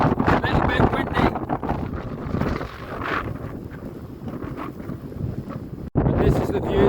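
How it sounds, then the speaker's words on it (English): Wind buffets the microphone on an open, cold fell top at Wild Boar Fell, a loud continuous rumbling roar with gusts throughout, briefly cutting out near the end before returning. "I don't know if you can hear it. It's a little bit windy."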